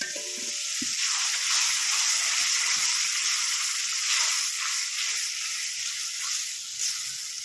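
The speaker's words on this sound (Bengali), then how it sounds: "এবার এর মধ্যে আমি একটু হালকা জল দেবো, দিয়ে আবার কষাবো।" Potato curry masala fries in a pan after a little water is added, giving a loud continuous hiss and sizzle with faint stirring underneath.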